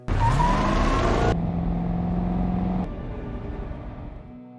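A car revs and pulls away loudly, its engine note climbing and then shifting down as it accelerates off. The sound drops after about three seconds and fades out, with no talk.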